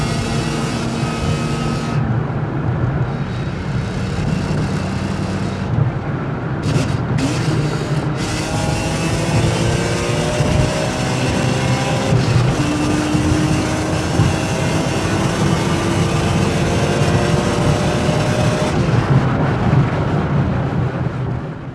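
A 350 bhp BMW E46 M3 CSL replica accelerating hard in second gear on a busy road, its loud close engine note climbing steadily over about twenty seconds with brief gearchange gaps.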